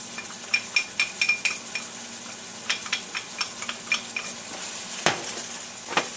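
Chopped onions sizzle as they go into browning hamburger meat for a lasagna meat sauce, with a steady fry broken by repeated scraping stirs and light utensil clinks, close and moderately loud.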